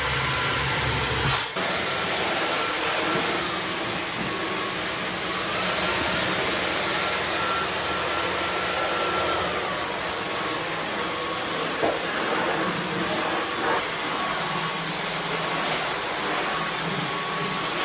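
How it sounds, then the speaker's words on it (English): A vacuum cleaner runs steadily on a pantry floor and shelves, a loud, continuous close-up whine with a brief bump near the start and no talking. "we're just going to go ahead and vacuum anything that's on the floor or anything that could be on the shelves"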